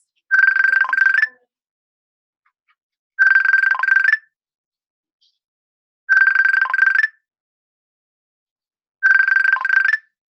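A mobile phone rings in four evenly spaced bursts of about a second each, with short silent gaps between them, loud and close with no talking over it.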